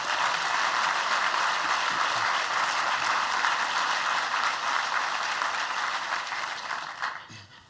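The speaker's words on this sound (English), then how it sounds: "Let's give them a round of applause" Sustained applause from an audience at a public event with Governor Andrew Cuomo on infrastructure and transportation, a dense even wash of clapping that holds steady for about seven seconds, then thins and fades at the end.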